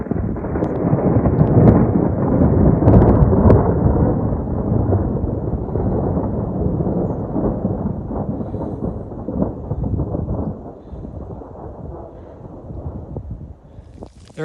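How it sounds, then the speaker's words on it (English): Long, heavy rumble of thunder rolling across a mountain peak in the Black Hills of South Dakota, loud at first and slowly fading over many seconds amid wind. "I haven't seen any lightning, but I've heard the thunder"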